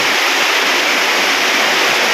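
Heavy rain pours without pause while flood water rushes past on a farm, forming a loud, dense, unbroken roar close by with no voices.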